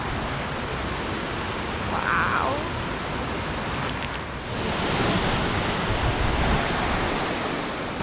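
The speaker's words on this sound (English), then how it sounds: "We're now at the Tes waterfall and it is really wet here." Tes waterfall in Lombok, Indonesia, a loud, continuous roar of falling water close by with spray and gusty wind, while a person briefly exclaims once partway through.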